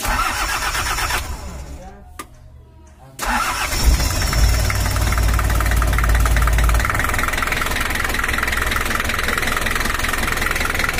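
A Toyota Hiace LH11 engine with a hairline crack in the cylinder head cranks and catches, then settles into a loud, rough, harsh-sounding idle that runs steadily to the end, with voices nearby.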